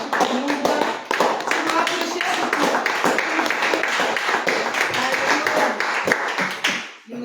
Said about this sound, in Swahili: Nataka tumpigie Bwana makofi